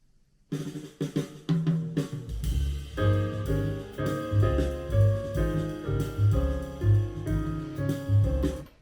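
Music plays back from a Pioneer PDS603 CD player, starting after a brief silence, with a rhythmic thumping bass beat and layered tones that sound muted and dull.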